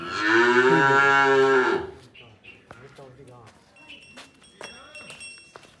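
A cow gives a long, loud moo, followed by quieter farmyard sounds and faint talking in the background.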